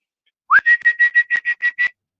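A human voice imitates the whistle of a burrowing rodent that pops its head up, giving one rising whistle followed by eight quick, evenly spaced, loud chirping whistles, alone without talk.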